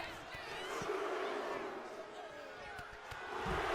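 A video game wrestling crowd chants a count in unison: a steady, distant wall of massed voices with scattered thumps and a rise near the end.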